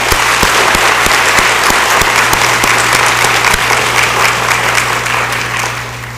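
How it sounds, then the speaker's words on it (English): Applause from a church congregation, dense steady clapping that fills the room throughout and tapers slightly at the end, with a low hum underneath. "How about a hand clap for those?"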